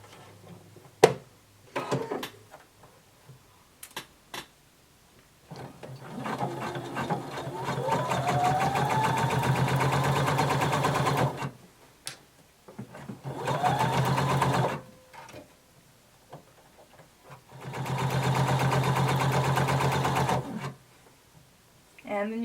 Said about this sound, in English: now we're going to sew 5/8 of an inch seam allowance.